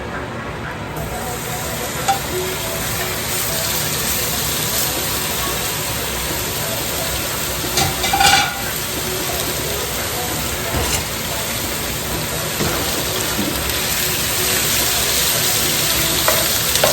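Steak and cauliflower rice sizzling and frying in a hot pan, a loud, constant hiss with occasional stirring clatter, while a person talks faintly underneath.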